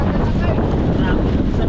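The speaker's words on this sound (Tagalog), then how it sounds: "Lakas ang ulan, tsaka hangin, grabe yung hangin." Strong wind and heavy rain batter a small fishing boat at sea, a loud continuous roar of gusts buffeting the microphone with rushing water, with no speech heard.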